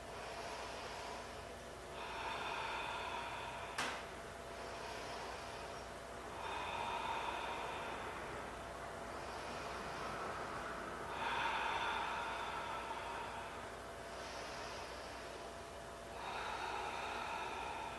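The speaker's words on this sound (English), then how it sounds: "Big breath." Slow, deep breaths during a yoga twisting stretch, drawn in and let out in a steady cycle of about five long, soft, airy swells, close and quiet, alone with no talk.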